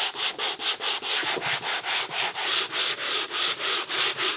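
Sandpaper scuffs a car door panel in quick back-and-forth strokes, about four per second, making a loud, close, evenly pulsing rasp with no other sounds.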